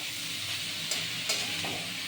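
Steady sizzling of bathua greens frying in a pan, with a couple of soft stirring scrapes near the middle; no voices.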